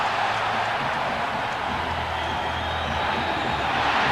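A hockey arena crowd roars steadily throughout a fight on the ice, a dense, unbroken wall of cheering and shouting with no single voice standing out.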